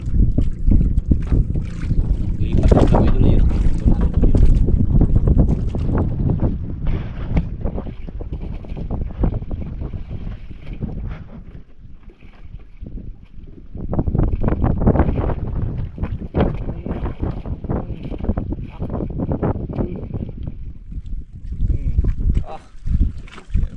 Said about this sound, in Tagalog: Bangka.